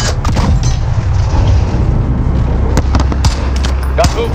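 Blasts and crackling gunfire from a Call of Duty Modern Warfare battle, including a grenade explosion, roll through a dense, loud mix of combat sounds for the full clip, with shouted voices mixed in.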